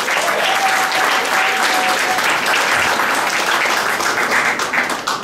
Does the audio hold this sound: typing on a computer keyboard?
no